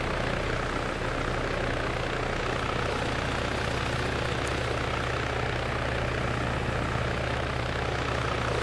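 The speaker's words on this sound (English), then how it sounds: "this helicopter, once it lands, it's just going to go right back to where I have it set" A helicopter in the video game Arma 3 comes in to land, its engine drone and rotor hum holding steady and loud for the whole stretch, with no voices over it.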